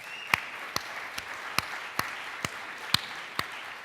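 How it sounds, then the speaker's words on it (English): A sparse round of applause from a tech conference audience, thin and scattered with distinct individual claps spaced out in a slow, uneven rhythm, fairly faint and sounding like only a few people clapping. "So if we can just get a round of applause for that."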